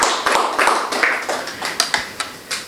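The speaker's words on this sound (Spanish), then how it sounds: "Démosle un fuerte aplauso a nuestro Dios como se lo merece." Church congregation applauding together, a burst of dense, fairly loud hand claps with sharper individual claps standing out, no talking during it.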